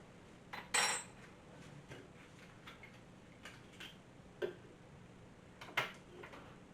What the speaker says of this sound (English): Get a little spoon, mix it up.